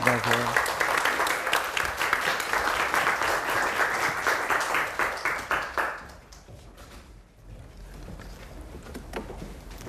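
An audience at a lecture claps to welcome a guest speaker, dense applause for about six seconds that then thins out and fades into quiet room noise.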